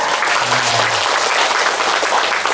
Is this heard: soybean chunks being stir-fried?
no